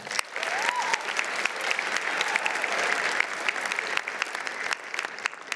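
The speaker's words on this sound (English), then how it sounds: "Let's give them a round of applause" An awards ceremony audience applauds the Sterling Scholar recipients with a steady, crowded round of clapping that runs the whole time, even and moderately loud, a few sharper individual claps standing out near the front.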